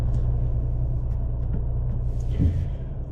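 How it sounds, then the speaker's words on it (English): A 2023 Ford Maverick Tremor pickup pulls out of a parking lot, its engine a low, steady rumble heard from inside the cab with a soft bump partway through. "we're pulling out of the parking lot in this Maverick Tremor"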